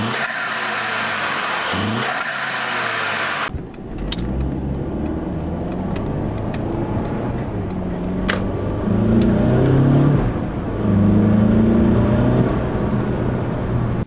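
Mercedes C300 W205 engine fitted with a carbon fiber style air intake kit, a steady droning idle and rev, close and loud with broadband rumble, the pitch stepping up midway as the engine is revved.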